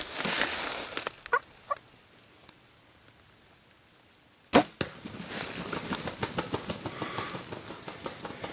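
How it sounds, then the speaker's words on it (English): A wild turkey gobbles several times during a spring bow hunt outdoors, the calls fairly faint and distant at first, then a sharper, louder burst over rustling and ambient background noise. "I have battled and battled and battled that turkey. Oh yeah, he won't gobble at you now, Crow."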